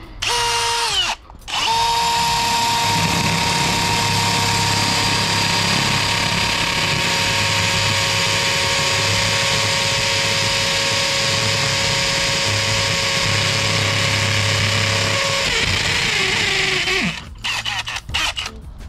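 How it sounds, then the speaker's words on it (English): A power drill whines loudly and steadily up close for a long stretch, straining slightly as it bores through a wall, then winds down and stops. "now I know where to drill through"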